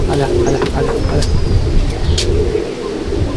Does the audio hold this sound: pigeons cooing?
yes